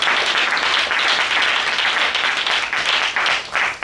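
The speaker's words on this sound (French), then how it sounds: "Acclamez très fort" A church congregation at a Sunday service applauds loudly and continuously, many hands clapping together in a dense, close roar that thins slightly toward the end.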